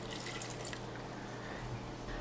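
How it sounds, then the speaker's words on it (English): Water poured into an Instant Pot over chopped vegetables to make broth, a steady low trickling and splashing that runs continuously and quietly throughout, with no talking. "we're going to fill this up with water"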